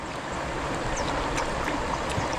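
Strong river water rushes steadily nearby, a dense continuous wash of splashing and gurgling with no break, heard alone at moderate loudness.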